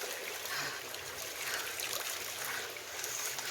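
Hot spring water runs steadily from a healing fountain at a Jamaican spa in St. Thomas, a continuous close trickling and splashing stream heard alone with no talk.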